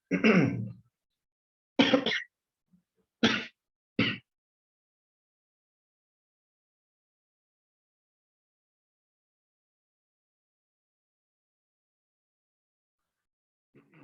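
A burst of four harsh coughs, close and loud, spaced a second or two apart, followed by a long silence.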